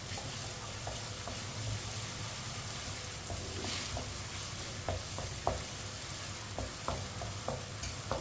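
Chopped onions and crushed garlic fry in a pan over a medium flame with a steady sizzle, broken by scattered clinks and scrapes of stirring.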